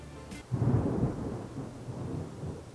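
A low rumble of thunder rolls in and lingers over steady rain, moderately loud and unbroken, during a home Christmas cookie baking session.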